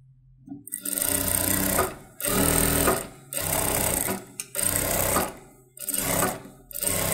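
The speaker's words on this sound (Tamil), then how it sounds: "இந்த லைனிங் மேலே தையல் போட்டுக்கலாம்." A sewing machine stitches lining onto a fancy saree blouse in five loud bursts of rapid stitching, separated by short silent pauses.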